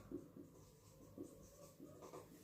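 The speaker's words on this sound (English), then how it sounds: "So let me write it here." Chalk or marker writing on a classroom board during a biology lesson on mRNA translation, with soft, quiet scratchy strokes coming in short repeated bursts against faint room noise.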